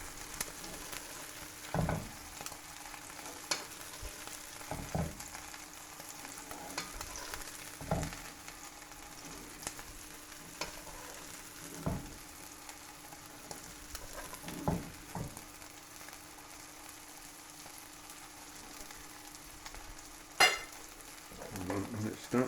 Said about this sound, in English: Fry the cheese on the bottom so it goes crisp.